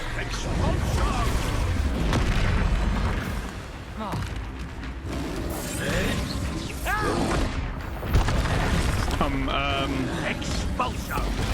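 Repeated Expulso explosion spells cast in the Hogwarts Legacy video game, loud booming blasts and crashes layered over dense game sound and voices, with bursts recurring throughout.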